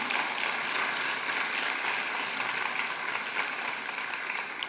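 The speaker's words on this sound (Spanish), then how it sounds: "Démosle un fuerte aplauso al Señor Jesús" A church congregation applauds during a Sunday morning service, a steady, dense wash of clapping that holds evenly throughout, fairly soft and distant with no voices on top.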